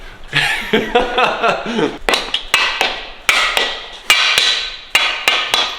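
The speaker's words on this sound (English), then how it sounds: "How much was that damn hammer just to be banging those caps Like in?" A piston hammer taps engine bearing caps repeatedly in sharp, ringing metal strikes, about a dozen irregular blows during engine assembly, after a brief stretch of muffled voices.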